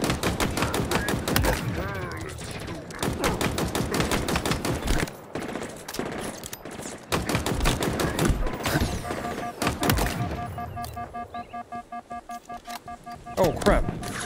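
Rapid gunfire in Halo Infinite aimed at a propaganda tower: dense, fast bursts of shots under near-constant talking, then a stretch of quieter repeated beeping tones and a final burst.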